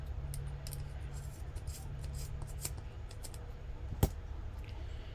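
Scissors snip the thread end of a beaded tassel, faint soft snips and rustling close by, capped by one sharp distinct click near the end.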